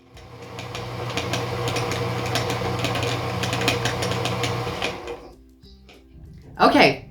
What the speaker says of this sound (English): Time to fill my bobbin.